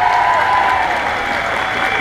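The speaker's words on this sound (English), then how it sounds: "so give them a big round of applause" Sustained applause from a crowd at a union demonstration rally over cuts to school support staff, a dense steady clatter of clapping that runs loud throughout and eases slightly toward the end.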